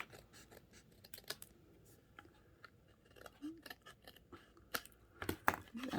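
Scissors snip along the back of a paper card in a papercraft setting, a series of quick, close, crisp cuts with irregular spacing, alongside soft handling rustles and a brief murmur.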